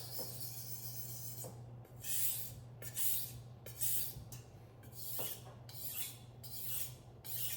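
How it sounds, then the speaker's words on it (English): A kitchen knife is drawn repeatedly across a sharpening stone to hone a new edge, giving about eight rhythmic rasping strokes at close range, each a bright gritty scrape, with quiet gaps between them. "That's a little bit of the knife that's coming off as you're honing a new edge."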